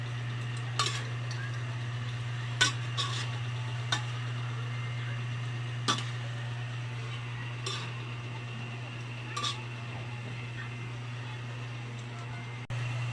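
Adobong kangkong with tofu is stirred in a pan, giving scattered light clinks and scrapes of a utensil over a steady low hum. The stirring is intermittent and fairly faint, and no one speaks.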